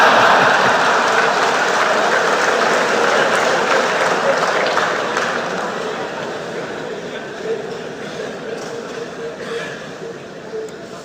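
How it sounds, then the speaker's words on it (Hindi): Sustained applause from a large audience filling a convention hall at Yashobhoomi, a broad steady wash of clapping that gradually fades toward the end. "आया हूं इसकी ताली बजा रहा हूं।"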